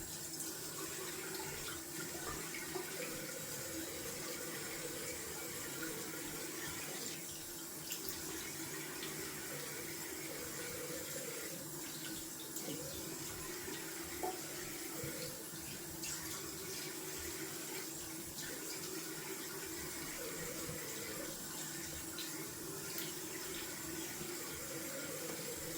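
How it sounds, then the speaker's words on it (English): Steady running tap water fills a bathroom sink for a cold rinse after a close shave with a silver safety razor, a continuous broadband splashing flow that stays even and alone throughout. "Going down for a cold water rinse."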